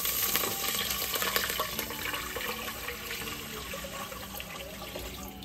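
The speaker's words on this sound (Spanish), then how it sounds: "ahora vamos a vertirle el agua" Water pours into a pot for cooking pasta with garlic, a continuous splashing and gurgling stream that gradually softens as the pour settles, with no one talking.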